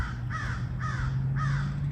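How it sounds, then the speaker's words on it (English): Crows caw outdoors, three evenly spaced harsh calls, fairly close and loud, over a steady low hum. "Thank you, crows."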